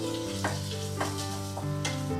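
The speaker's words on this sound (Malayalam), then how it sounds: "ഇതിൽ വെളുത്തുള്ളി, ചുവന്നുള്ളി, ഇഞ്ചി, പച്ചമുളക്, ഇതൊന്ന് വഴറ്റി വരാം" Garlic, shallots, ginger and green chilli sautéing in a pan over onions for a jackfruit seed curry, a continuous bright sizzle with a few soft stirring scrapes, close and steady, no talking.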